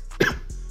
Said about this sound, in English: sorry if I'm coughing a lot during this intro